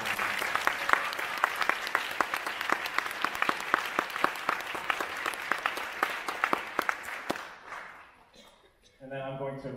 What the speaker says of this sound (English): So give them a round of applause for something.